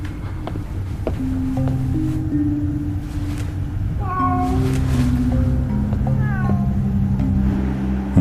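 A cat meows several times in winter cold outside, clear tonal cries that rise and fall, some drawn out, over a steady low background rumble with no talk.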